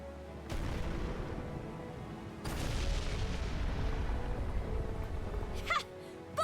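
A cannon fires in the video game Ys X: Nordics, giving two heavy, loud booms about two seconds apart, each followed by a sustained rumbling wash with a sharp ringing effect near the end.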